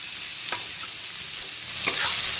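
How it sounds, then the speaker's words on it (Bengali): Chopped onions frying in a pan over low to medium flame, a steady close sizzle with two brief scraping stirs of a utensil. "বাদামি কালার করে ভেজে নিতে হবে, পেঁয়াজের থেকে কাঁচা গন্ধ চলে যাওয়া পর্যন্ত"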